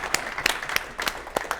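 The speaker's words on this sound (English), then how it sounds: "Let's give this guy a round of applause," A short burst of clapping from an audience at a business presentation, made of scattered, uneven claps that sound a little distant. It ends quickly.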